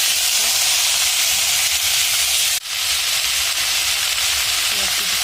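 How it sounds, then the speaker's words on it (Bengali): Spinach and gram greens with fried lentil dumplings fry in a hot pan, making a loud, continuous hissing sizzle close by, broken by one brief dip midway, with no speech. "এর মধ্যে এবার শাকটা দিয়ে দেবো"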